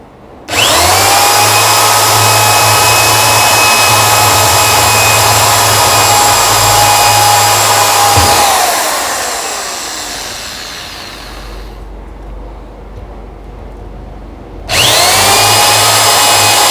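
An electric drill boring rivet holes in a metal cabinet casing whirs loudly at full speed for about eight seconds, winds down to a quieter hum, then revs back up strongly near the end, with no talk.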